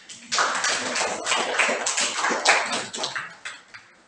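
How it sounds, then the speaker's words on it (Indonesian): A high school class in Merauke, Papua, claps hands in a loose burst of uneven claps that swells and then trails off, close and alone without talk. "tepuk tangan buat"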